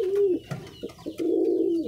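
Sirazi and Lakha pigeons cooing at midday, soft low throaty coos in a few drawn-out phrases with brief pauses between, close and fairly quiet.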